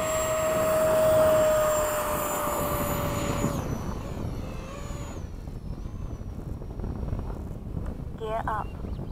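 An Eflite 80mm F-4 RC model jet flying with afterburner roars loudly and steadily, its tone sweeping as it passes overhead and then settling into a sustained rushing drone at a distance.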